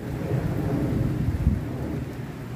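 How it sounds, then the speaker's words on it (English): Heavy rain pours down outdoors in a steady, dense roar with low rumbling throughout, loud and close, and no voices. "I don't know if the camera's picking it up, but it's really coming down,"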